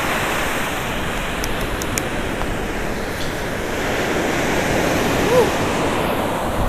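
Ocean surf washing in near the shore, a steady, loud broadband rush of breaking water with slight swells in intensity and no clear voices.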